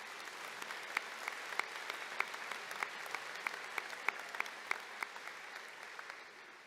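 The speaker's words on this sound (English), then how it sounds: "Let's congratulate all of our graduates with a round of applause." At a Fort Hays State University commencement, a large crowd applauds the graduates, a faint, distant, even patter of clapping with regular sharper claps standing out close by.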